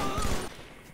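A short burst of rapid gunfire from the Halo video game, loud and dense for about half a second, then trailing off into a quieter tail.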